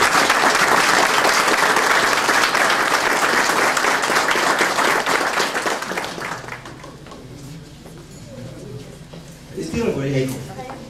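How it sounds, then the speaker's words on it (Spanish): Crowd applause at a cemetery inauguration in a rural ranch community, dense sustained clapping that fades after several seconds, leaving scattered voices and a brief louder burst of talk near the end. "Y vamos a darles el aplauso."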